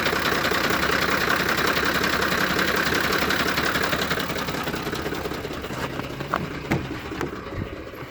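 A Ford F-150 engine idles rough with a faulty cam sensor, a close, steady, shaking drone with knocking pulses that eases slightly in volume toward the end, with a few sharp clicks.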